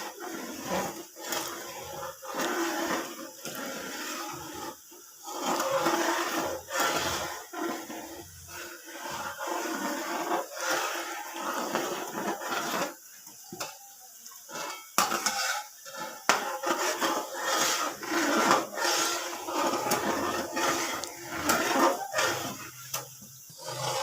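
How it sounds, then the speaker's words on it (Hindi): A spoon scraping and stirring melting jaggery syrup in a metal pan, continuous clinking and scraping strokes, close and steady, with no talk. "अब हम चम्मच को हिलाते जाएंगे चाशनी तैयार करने के लिए।"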